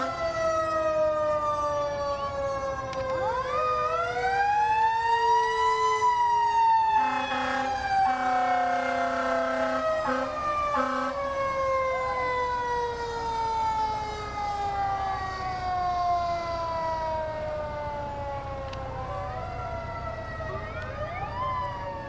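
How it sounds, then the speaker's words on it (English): A fire truck siren at a homecoming parade wails loudly and continuously, rising and falling in long sweeps, with a brief honking blast partway through and engine rumble underneath. "The wailing sirens"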